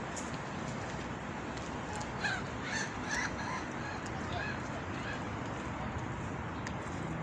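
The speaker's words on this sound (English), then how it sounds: "The sound of the seagulls." Distant seagull cries ring out a few times over a constant wash of outdoor background noise in Lucerne, Switzerland, in autumn, faint and scattered.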